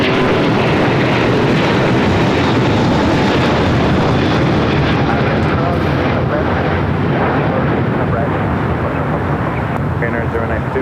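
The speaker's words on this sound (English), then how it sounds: "That is Korean Air Flight 18 Super taking off to Seoul on the A380." A Korean Air Airbus A380 takes off, a loud, steady broadband engine roar that fills the whole stretch without letting up.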